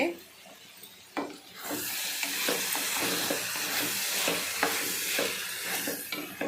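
Steady sizzling hiss of a brinjal, broad bean, drumstick and tomato curry simmering in a pan over a medium flame, with occasional soft scrapes of stirring; close and continuous, no voices.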